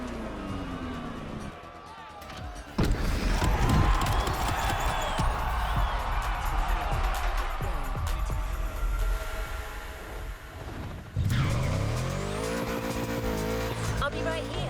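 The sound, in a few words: car driving on roads of Maui in The Crew Motorfest video game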